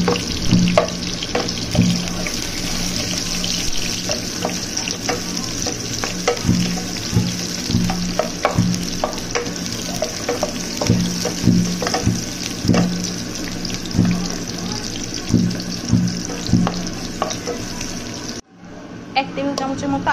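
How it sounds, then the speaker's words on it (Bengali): Chopped onions fry in a pan for vegetable khichuri, a busy crackling sizzle with frequent stirring scrapes and clinks, close and steady. A brief drop in level comes near the end. "এখন এর মধ্যে দিয়ে দিব পেঁয়াজ কুচি।"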